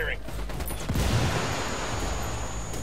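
Gunfire in the video game Ghost Recon Wildlands, a quick burst of shots up front followed by a lingering wash of battle noise, moderately loud with a voice talking over it.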